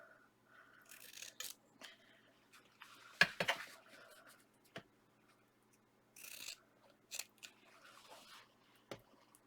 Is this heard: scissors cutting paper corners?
yes